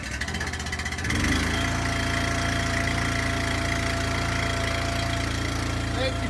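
A small gasoline engine, freshly fueled and choked, catches after a second of rough cranking and settles into a loud, steady close-up idle with a constant low rumble and slight mechanical rattle.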